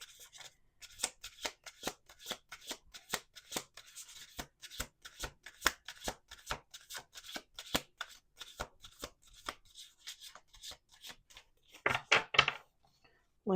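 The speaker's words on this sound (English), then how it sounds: "We're going to do two more shuffles." A deck of cards is shuffled repeatedly at close range, giving rapid riffling bursts in a steady rhythm with brief pauses between passes, ending in a louder flurry.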